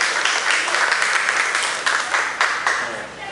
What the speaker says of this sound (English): So can you give her one more big clapping hand for her?